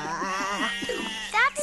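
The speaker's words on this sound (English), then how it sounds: "That's not a bull. That's just Herkimer, one of the sheep." A sheep bleats in a children's farm scene, a wavering, quavering cry up close that fills most of the moment, with a brief voice rising at the end.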